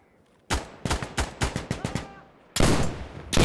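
Gunfire in the video game Insurgency Sandstorm: a rapid burst of loud, close rifle shots in an uneven rhythm, then after a short pause a heavier sustained barrage of fire, with no talking.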